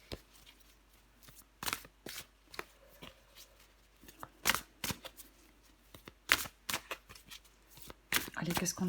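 Tarot cards being shuffled up close, repeated quick riffling and slapping bursts in an uneven rhythm, with a person talking between and over them.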